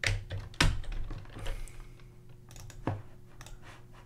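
A few keyboard shortcut presses sound close by: a handful of sharp clicks, a couple of them stronger, spaced irregularly over a few seconds against a low steady hum.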